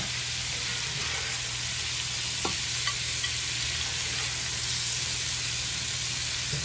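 Small shrimp blackening in a hot pan give off a steady, even sizzle that holds at the same level throughout, with one or two faint clicks.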